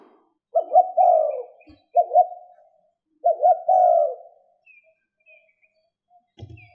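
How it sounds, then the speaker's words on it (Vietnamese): A spotted dove coos three times in soft, rhythmic phrases, close and clear against a quiet background. "nó có tên là chim gáy là người ta đã dựa vào tiếng kêu của nó"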